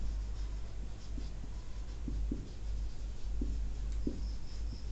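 Pen or marker strokes during a sixth-grade maths lesson, soft scratchy writing taps recurring irregularly over a steady low hum of room noise, with no voices.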